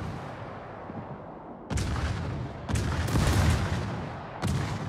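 Artillery fire support in a tank video game arrives as three heavy booming impacts spaced about a second apart, each a broad rumbling blast over a quiet background.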